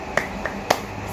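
Classroom of students doing a "tepuk semangat" clapping chant: three sharp, well-spaced claps, the last one strongest, with no voices.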